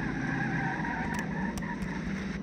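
A car drifts in the video game SAS: Zombie Assault 4, its tires squealing in a sustained skid over a steady engine roar, close and continuous for a couple of seconds.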